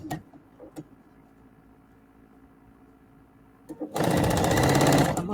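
After a few quiet clicks, a sewing machine runs top stitching through fabric in a loud, fast, steady mechanical chatter for the last second and a half.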